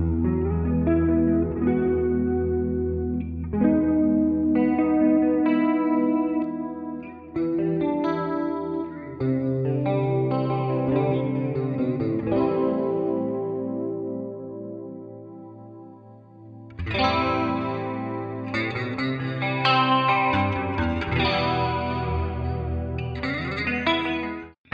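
Electric guitar played through a NUX Mighty Air mini amp with chorus and distortion effects, sustained chords and ringing notes continuing for the whole stretch, loud and close with no talk.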